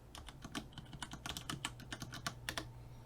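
A password is typed on a computer keyboard in a quiet room: a steady run of soft, close key clicks at an uneven, brisk pace, with no talking.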